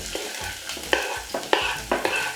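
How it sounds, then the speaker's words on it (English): Steady sizzling of diced onions and chopped peppers frying in oil, with periodic scraping and stirring clatters from a utensil in the pan, close up. "that sizzle. So I'm just going to saute this for about 30 seconds."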